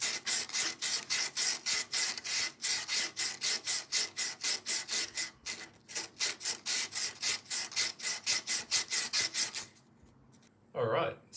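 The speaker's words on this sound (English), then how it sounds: "We've got a set of different sandpapers, and we're just going to have at it" Corroded metal pins from an old R. F. Stevens folding reed organ are rubbed with sandpaper in quick, rhythmic back-and-forth strokes. The rasping is close and loud and continues for about ten seconds before it stops.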